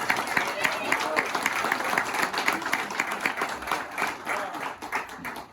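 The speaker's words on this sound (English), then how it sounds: "So if you guys want to give a round of applause to Bartow County" Crowd of players and spectators applauding at an evening park event, moderate clapping with scattered sharper claps, a voice or two mixed in, tapering off near the end.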